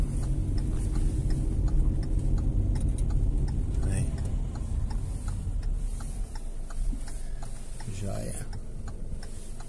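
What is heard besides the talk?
car turn signal indicator ticking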